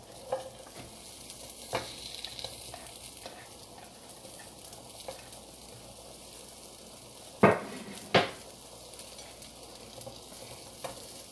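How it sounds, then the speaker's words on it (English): Vegan sausage pieces fry in a skillet with a steady, moderate sizzle, broken by a few stirring scrapes and two sharp utensil clacks near the end; no one talks. "now we're going to go ahead and add in our sausage"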